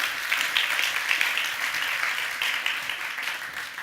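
An audience at a magic show applauds steadily for a few seconds, dense overlapping claps that gradually taper off.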